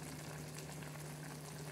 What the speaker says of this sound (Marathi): आता आपण हे बघा उकळी येते त्याला